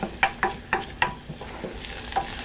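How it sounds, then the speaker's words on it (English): Onions cook in a pan over medium heat, a soft steady sizzle broken by several sharp scrapes and taps of a utensil stirring them. "My onions have been cooking in there now for 5 minutes."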